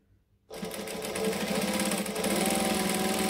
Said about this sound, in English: And then we can stitch back in the opposite direction.